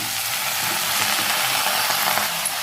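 Chopped raw tomatoes, onion and tamarind fry in a pan, giving a steady, close hiss of sizzling oil with light stirring scrapes throughout and no talking.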